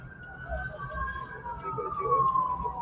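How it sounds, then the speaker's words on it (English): Emergency vehicle sirens wail from a distance in Los Angeles near train tracks, a steady rising and falling tone over a low rumble of street noise and faint voices. "You hear the sirens?"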